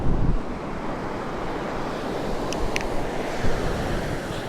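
Waves roll onto a clean beach at Bentota, Sri Lanka, in a steady, loud surf roar with wind buffeting the microphone and no voices.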